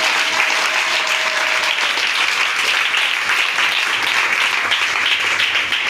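A church congregation bursts into sustained, loud applause, a dense wash of many hands clapping steadily throughout, with no voices standing out above it.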